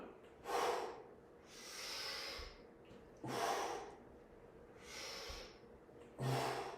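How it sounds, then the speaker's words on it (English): Rhythmic breathing during hip hinge deadlift exercises, sharp nasal inhales alternating with longer, softer exhales, repeating about every three seconds, close and fairly quiet, with no speech. "So exhale as I stand up, inhale down."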